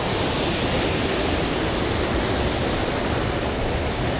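River water rushing through a natural flume gorge on the Pemigewasset River at Franconia Notch, a constant broadband roar with no breaks, steady and loud like a close waterfall.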